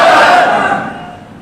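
A crowd answers the Takbir slogan with a loud collective shout at a religious gathering, the roar strongest at the start and slowly fading over a second and a half.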